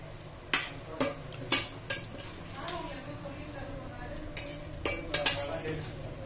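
Spicy pork belly being mixed in a pot, with a handful of sharp metallic clanks and scrapes of a utensil against the pot spread across the clip, over a low steady background.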